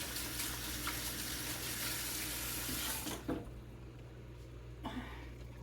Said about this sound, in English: Wash them off real good.